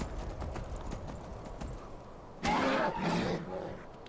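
Horse hooves clip-clop in a steady rhythm while riding through Skyrim Anniversary Edition, followed by a sudden louder burst of sound partway through.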